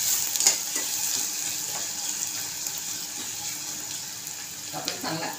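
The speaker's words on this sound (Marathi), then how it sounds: "आपण चांगला कांदा लाल होऊन द्यायचा." Onion frying in a pan for a brinjal and potato curry, a steady close sizzle with soft hiss, lightly stirred, continuous and even throughout.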